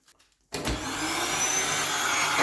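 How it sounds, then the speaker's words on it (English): A vacuum cleaner hooked up by an adapter to a Parkside PSBM 1100 B1 two-speed hammer drill switches on after a short pause and then runs as a loud, steady, close roar with no talk over it. "there is the vacuum, connect the vacuum"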